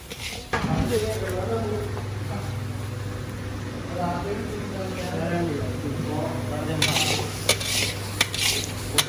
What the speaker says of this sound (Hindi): ये हमारी कढ़ाई जो है वो गर्म है, तो इसलिए हम इसको थोड़ी देर हिलाएंगे ताकि ये नीचे से ना लग जाए